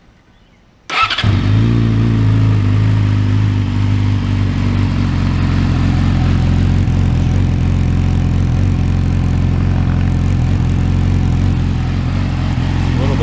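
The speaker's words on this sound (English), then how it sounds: "Here's a startup on it with the silencer." An engine with a silencer baffle fitted cranks and catches about a second in, then settles into a steady, loud, close idle with a deep throbbing note that runs unbroken to the end.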